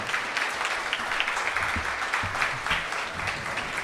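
A live audience applauds steadily as Eric walks up to the front at a debate event, sustained dense clapping with a few cheers, fairly close and even in loudness.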